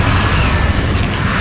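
A Confringo spell explosion in Hogwarts Legacy, a dense, heavy rumbling boom that fills the short moment loudly and evenly without a clear onset.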